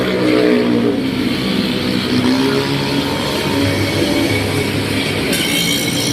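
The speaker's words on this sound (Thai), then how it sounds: "รถไฟฟ้าสายสีม่วงนะะ" A Bangkok Purple Line electric rail train rumbles past steadily nearby, a continuous loud roar with wheel noise throughout.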